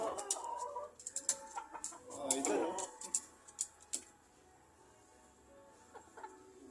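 Chickens, including hens, cluck in short bursts close by, with a person talking in Filipino over them intermittently before things quiet down.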